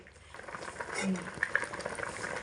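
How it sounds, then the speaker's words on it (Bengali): Dal lentils bubbling uncovered in a pan, a soft, close simmer with gentle popping bubbles and a low liquid burble, faint and steady with some background murmur. "ডাল ভুনাটা খুব ভালো করে ঢাকা চাপা না দিয়েই ফুটিয়ে নিয়েছি"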